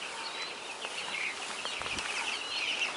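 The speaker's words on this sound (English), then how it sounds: "This is my brooder. Oh, chickies." Day-old chicks in a brooder, a chorus of high, rapid peeping calls overlapping near and far, steady over a soft background hum, with no talking.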